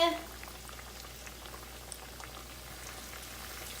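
Chicken frying in a pan with too much grease gives a faint, steady bubbling sizzle that stays soft and even throughout.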